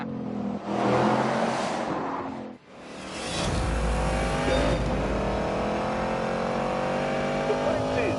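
Loud muscle car engine roaring and revving hard, a brief drop in sound followed by a sustained accelerating blare, with people talking over it.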